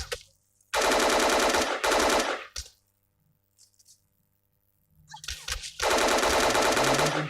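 In PUBG Mobile, bursts of rapid automatic gunfire from an enemy player come in two long loud volleys with a quieter gap between them, with faint game ambience and no talk.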